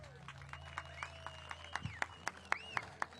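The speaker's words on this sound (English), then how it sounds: "help us show all of our appreciation to our sponsors and all of our volunteers and stakeholders by offering a big round of applause" Scattered applause from a crowd at a bass fishing tournament weigh-in at Lake Ouachita rises over a low steady hum, with sparse distinct claps and a few crisp ones standing out.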